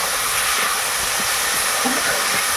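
Ridge gourd and potato curry boils hard in a pan while being stirred, a loud, unbroken broadband hiss and bubble that fills the whole moment.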